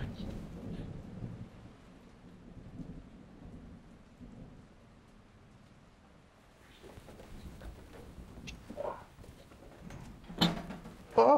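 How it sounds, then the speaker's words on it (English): A thunderstorm rumbles low and steady under a soft hiss of rain, then sharper cracks and clattering hits build near the end. "The storm."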